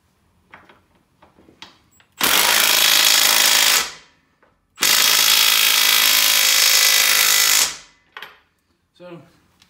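Milwaukee M12 Fuel stubby 3/8-inch impact wrench refitting a nut, heard as two loud sustained hammering bursts of about two and three seconds each, separated by a short pause, with quieter handling clatter before and after.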